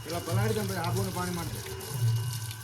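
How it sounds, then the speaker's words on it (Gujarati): Hose water sprays and splashes while a KTM motorbike is washed outdoors in a village during Holi, steady beneath someone talking throughout. "તો ચાલો ગાડી પણ ધોઈ નાખીએ."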